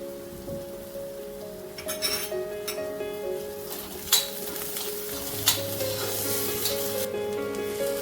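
Onion, green chilies, ginger garlic paste and coriander stirred in a frying pan for dal khichdi, a steady sizzle with scattered metallic clinks and scrapes of the spoon against the pan, close and moderately loud, no talking.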